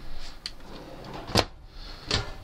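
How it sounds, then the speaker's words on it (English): A silverware drawer beneath the kitchen sink of a 2018 Airstream Tommy Bahama 19CB Bambi travel trailer slides open or shut, giving a few short knocks and thumps over a quiet interior with no talking. "You got a drawer underneath the sink for silverware."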